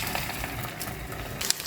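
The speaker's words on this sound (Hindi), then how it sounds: "कबाब को दोनों तरफ से डिप करके हमने फ्राई कर लेना है।" Egg-dipped potato, chicken and fenugreek kebabs fry in hot oil with a steady, close crackling sizzle that holds throughout.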